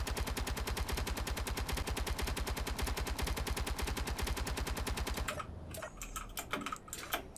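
Interior turrets in Space Engineers pour fast, evenly spaced automatic fire into a steel block for about five seconds, a loud rattling stream that stops abruptly, leaving scattered impact clatter.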